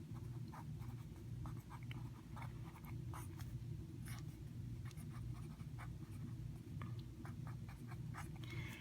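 Hand writing on paper while working through a unit circle problem: soft, faint scratching and tapping strokes of a pen come in an irregular rhythm over a steady low background hum.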